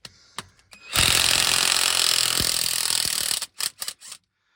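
A power tool, likely an impact gun, works on the intake of a 1975 Dodge, giving one loud, near, rattling burst of about two and a half seconds, then a few short blips.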